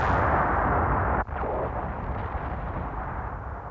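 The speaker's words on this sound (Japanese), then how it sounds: "爆発しました。 あれは司令室のあたりです。" Explosion sound effect near a fortress command room in an anime space battle, a loud sustained roaring rumble that briefly cuts out, then continues as a heavy fading roar with no voices.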